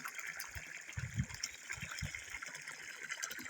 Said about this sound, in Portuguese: essa água a cair no rio vá tratando de fazer essa borbulha